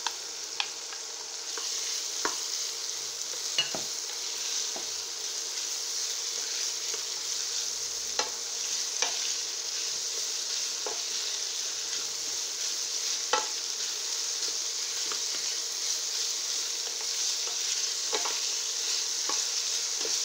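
Chinese broccoli stems fry in a pan with a steady, bright sizzle throughout, broken by occasional sharp clicks of stirring; no one talks.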